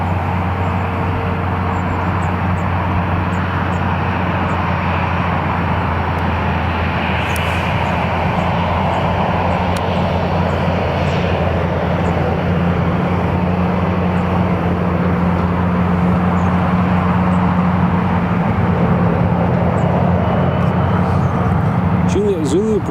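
A Jet2 airliner rolls along the runway at Newcastle International Airport, its engines giving a steady, loud, continuous rumble and hum that persists throughout without a break.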